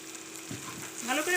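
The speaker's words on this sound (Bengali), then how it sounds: "ভালো করে ভেজে নেব। কুচি করে কেটে রাখা গাজর দিয়ে দেবো" Chopped carrots frying in a pan for carrot rice, a quiet steady sizzle with faint stirring scrapes and a brief voice near the end.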